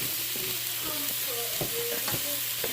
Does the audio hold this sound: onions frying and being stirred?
yes